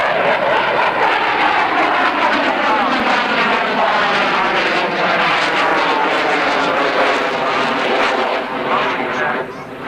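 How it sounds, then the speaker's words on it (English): An RAF Panavia Tornado jet makes a slow, low pass with landing gear down and landing lights on, a loud continuous roar that holds steady and then eases slightly at the end. "And gear down now on the Tornado for a much slower pass right to left"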